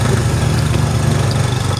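A friend's motorcycle engine labors hard uphill on a forest track, a loud, close, steady droning rumble with no break.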